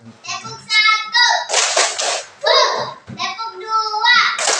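In a classroom, a group of children chants together and claps their hands, with dense bursts of clapping breaking between stretches of young voices, close and lively.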